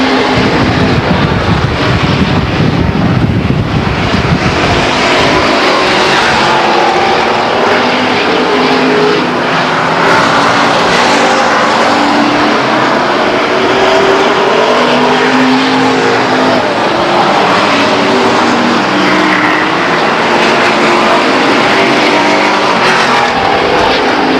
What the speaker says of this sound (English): There's a great battle going on between the 12 car of Johnny Bent, the 7 car of Jeremy Hammond, and the 38 car of Joe Hilton.